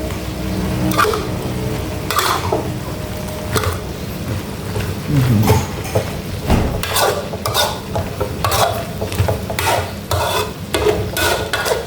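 Minced pork red curry stir-fry with fresh red chilies being stirred and mixed in a pan, with repeated spatula scrapes and clanks over a steady sizzle, close and fairly loud.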